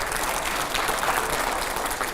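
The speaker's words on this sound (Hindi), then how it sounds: "जोरदार तालियां हो" A studio audience at a televised Hindi debate show with politicians and editors claps together, a thick, even wash of applause held at steady loudness from start to finish.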